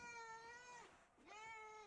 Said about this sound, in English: Hopefully you heard that meow.